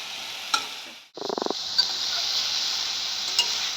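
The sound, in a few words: stirring banana stem with ash gourd leaves in a pan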